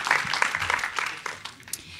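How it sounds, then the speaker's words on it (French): An audience at an academic conference applauds a guest speaker, a short burst of dense clapping heard from across the room and fading toward the end. "Applaudissez-le."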